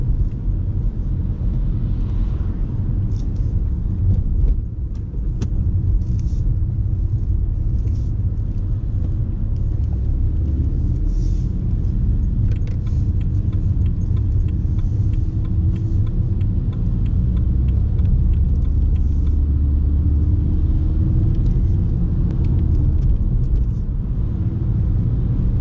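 A car rolls along a road during a mock driving test, its engine and tyre rumble steady and close inside the cabin, with no talking heard.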